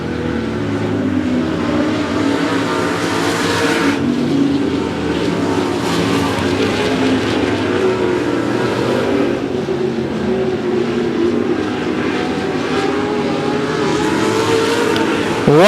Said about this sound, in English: You can see he's getting that car to rotate and pointed towards the exit.